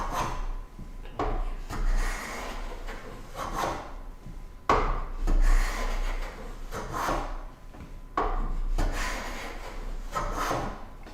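Hand plane pushed along a wooden board on a workbench, making repeated rasping shaving strokes in a steady rhythm, each stroke a short swish with a gap after it.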